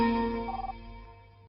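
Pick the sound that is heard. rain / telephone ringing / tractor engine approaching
telephone ringing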